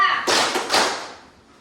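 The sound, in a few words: class clapping a rhythm pattern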